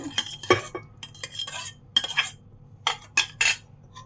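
A spoon scrapes and clinks against a serving bowl as veg chapsi is served, giving a series of irregular close metallic taps and scoops with short pauses between them and no talking.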